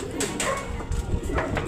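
Racing pigeons, young birds, coming in during a derby loft arrival, with cooing and bird calls heard close over steady background noise and people talking.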